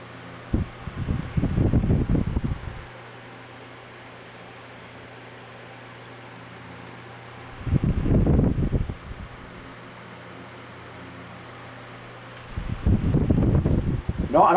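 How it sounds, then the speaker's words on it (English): A vintage 1940s Hunter Century 12-inch table fan with a dual shaft motor runs on high speed, a steady low hum and airy whoosh that swells loudly three times as the oscillating head sweeps past. "you can see it oscillates a lot quicker on the higher speed"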